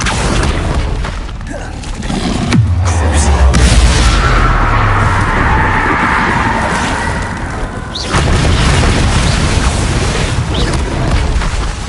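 A Bombarda blasting spell goes off in a video game, producing a deep booming explosion with a rumbling low tail and crashing debris, loud and close, followed by lighter cracks.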